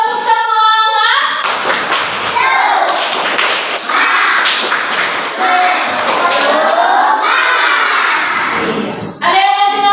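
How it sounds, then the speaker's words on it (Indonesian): A classroom of students performs a rhythmic spirit clap, loud patterned bursts of clapping and tapping with chanted voices woven through, pausing briefly near the start and end where a single voice speaks. "Kalau masih semangat, coba kita tepuk semangat."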